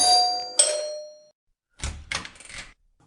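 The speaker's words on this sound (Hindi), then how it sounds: "वापस घंटी बजानी पड़ेगी।" A gate doorbell rings twice in quick succession, bright ding tones with a lingering sustain, followed after a pause by some brief muffled knocks and clatter, with no talking.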